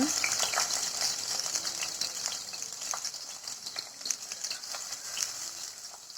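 Chopped big onions go into a pan already holding fennel seeds, cloves and star anise, making a steady close sizzle of frying with faint stirring and scraping throughout, no voices.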